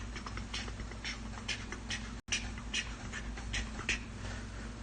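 A puppy pants indoors in a quick, steady rhythm, close and fairly faint against a constant low background hum, with no voices.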